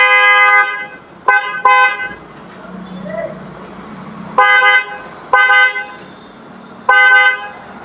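A repaired vehicle horn honks loud and close in a series of short and longer blasts with pauses between, the bright tone ringing clearly over a quiet workshop background.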